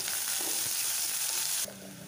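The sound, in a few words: onions frying in spluttering oil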